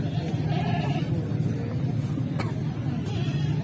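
Goat bleating at a busy outdoor livestock market in Sialkot, Akbarabad, a few short bleats over constant crowd chatter and traffic noise.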